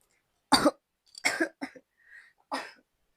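A person coughs in a few harsh bursts, with short pauses between them, close and clear with no talking.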